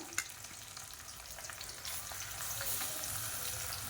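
Onion frying in peanut oil, browning in a pan for biryani, a steady broadband sizzle and crackle that swells slightly louder partway through, with no talking.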